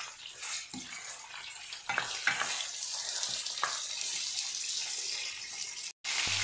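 Half a kilo of mutton frying in a quarter cup of oil in a pan, a steady close sizzle with intermittent scraping stirs, cut by a brief silence near the end.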